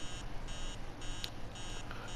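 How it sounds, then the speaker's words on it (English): Electronic alarm clock in a PS4 horror game, beeping in regular bursts of roughly a quarter second, steady and moderately loud over a low background hum, with no voices. "That alarm is so annoying,"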